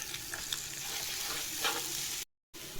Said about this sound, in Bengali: তো চলো ডিমটা ভেজে নিই ভালো করে,